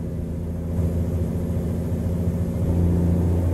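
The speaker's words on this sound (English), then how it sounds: "listen to that engine" A steady, low engine drone with a slight rise in intensity partway through, a heavy truck cruising in the video game American Truck Simulator, pulling a double trailer, with no talking.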